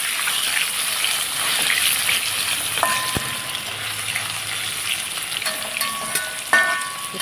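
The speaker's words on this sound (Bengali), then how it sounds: "পনিরটা একটু ভেজে নেব।" Paneer fries in oil with a continuous, moderately loud sizzle, joined by occasional light clinks and a brief splashing, watery undertone.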